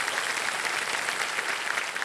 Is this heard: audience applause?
yes